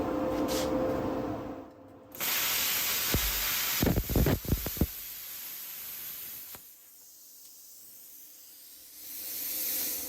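A Bestarc 500DP V3 plasma cutter slices through metal at 40 psi with a loud, steady hissing roar and several sharp crackling bursts, then cuts off, leaving a quieter air hiss.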